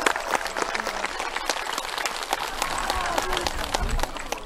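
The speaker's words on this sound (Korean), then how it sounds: "박수 한번 쳐주세요." A crowd applauds at the Guinsa temple founding anniversary Dano festival, a steady, fairly faint patter of many hands clapping, with scattered voices in the gathering.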